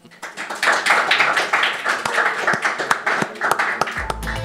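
Applause at the close of a live radio broadcast from Toulouse, a small group clapping close by in brisk, slightly uneven claps that thin out toward the end.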